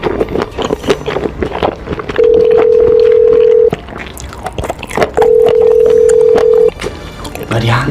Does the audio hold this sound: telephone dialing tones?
yes